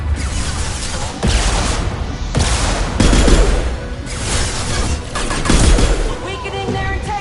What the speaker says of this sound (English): Going silent. Taking heavy fire.